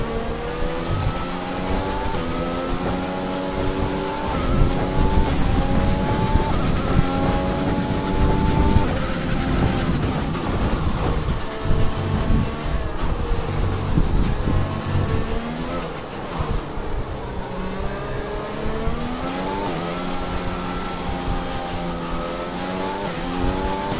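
An F1 2020 race car in the video game on its warm-up lap at the French circuit, its engine droning steadily and loud, pitch climbing and dropping as it runs up through the gears.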